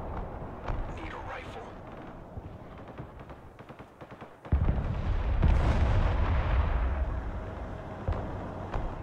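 Artillery fire in the Broken Arrow video game, with scattered shots and crackling at first, then a deep heavy barrage that booms in and rumbles on, and voices talking over the early part.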